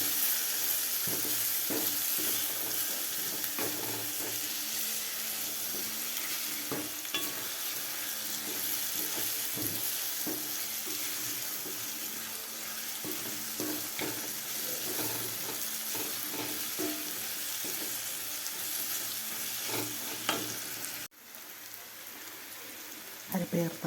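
Bitter gourd and onion fry and hiss in a pan for a nearly constant sizzle, with frequent scraping stirs and soft clinks close up, and a sharp knock near the end.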